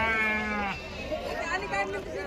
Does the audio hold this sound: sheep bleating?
yes